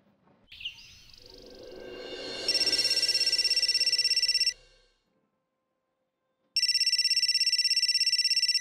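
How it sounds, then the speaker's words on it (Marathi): An incoming call's electronic ringtone sounds in a Marathi TV drama scene, two loud sustained bursts of ringing separated by a short silence, preceded by a brief chirp and rustling. "म्हणजे मला वाटलं होतं मीतूचा फोन येईल, पण चक्क तुझा फोन आला."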